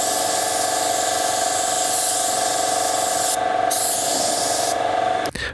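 A spray gun laying a base coat of paint on a car bumper and fender at home, a steady, loud, continuous hiss close by with a couple of brief pauses near the end.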